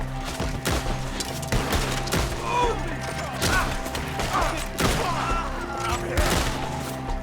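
Rapid bursts of video-game gunfire crack and boom in uneven volleys while voices shout over the shooting.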